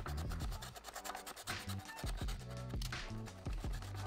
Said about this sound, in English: So trying to get the plastic a little bit scuffed up with some sandpaper.